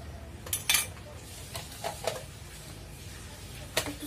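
A hand-operated vegetable chopper finely chops onion, giving a few short, close clattering bursts of blade and plastic rattling separated by quieter gaps.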